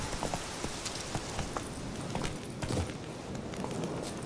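A horse's hooves clip-clop in The Witcher 3: Wild Hunt, a steady, fairly close rhythmic trot of hard knocks over a soft noisy background.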